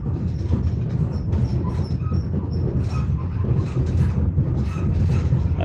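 Steady rumble of a Moscow metro train in motion heard from inside, with rattling, bumps and faint high squeals over the running noise.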